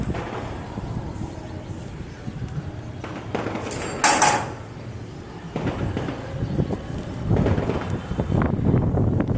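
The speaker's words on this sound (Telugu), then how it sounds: "నేను సౌండ్ మ్యూట్ చేయలేదు, బికాస్ గాలి సౌండ్ వింటాను అనేసి" Gusty wind buffeting the microphone in rising and falling rushes at a festival fair, with a sharp bump partway through and faint voices in the background.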